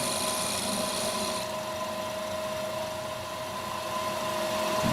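A small 1/4 inch bowl gouge cuts radiuses into the lower ring of a wooden goblet stem spinning on a lathe, a steady close scraping hiss over the lathe's constant motor hum, with no talking.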